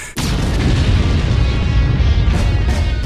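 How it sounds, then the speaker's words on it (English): A huge explosion booms suddenly in a Borderlands 2 trailer and then rolls on as a loud, sustained rumble. A couple of further bursts hit near the end, with no speech. "Explosions!"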